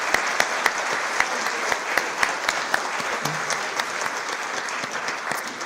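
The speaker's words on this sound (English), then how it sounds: "I'd like to offer one last round of applause for all of our 2024 outstanding mechanical engineers" An audience at a 2024 outstanding mechanical engineer awards ceremony gives a round of applause, steady clapping from many hands, with a few sharper individual claps standing out.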